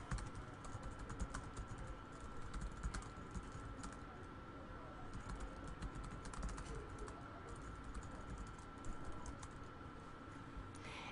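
Computer keyboard typing runs steadily through the whole stretch, a continuous patter of quick key clicks heard close and fairly quiet, with no talking.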